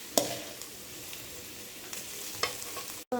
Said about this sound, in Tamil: வெங்காயம் நல்லா அந்த கிளாஸ் மாதிரி வர்றதுக்கு நம்ம வதக்கிக்கலாம்